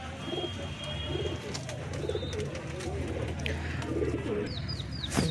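Pet pigeons kept in ringed pairs cooing in soft, low, repeated calls, with a few sharp chirps and wing sounds mixed in, while someone talks over them throughout.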